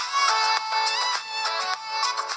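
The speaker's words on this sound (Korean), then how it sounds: "이 스마트워치는 그냥 워치에서 음악을 틀어버리네요" Music plays from the small built-in speaker of a Pretty Little L13 smartwatch, sounding thin and tinny: a steady, fairly loud stream of bright tones with rhythmic note changes and no voices.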